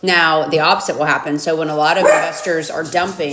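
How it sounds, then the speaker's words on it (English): Several dogs bark and yip indoors at close range while a person keeps talking over them, and the yapping and voice overlap throughout. "pardon my dogs, they would like to also participate in this conversation."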